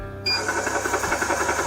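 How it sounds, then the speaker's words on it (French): An air compressor filling a Snowpeak PP750 5.5 mm PCP air rifle starts up abruptly and runs with a steady, rapid mechanical chugging pulse, loud and close, with no talk. "On voit que le compresseur se met en route, on l'a entendu."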